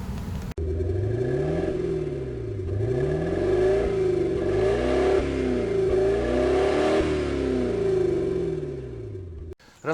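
A troubled car engine with a knocking fault, backfiring through the carburetor, revs up and down loudly and close by for about nine seconds, its pitch swooping in repeated rises and falls.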